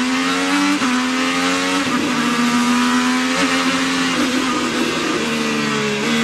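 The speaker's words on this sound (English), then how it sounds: "Listen to the throttle here." An IndyCar race car engine at the 2014 Alabama race, a loud, sustained high-pitched whine whose pitch steps up and down as the throttle is eased on and off, with commentary over it.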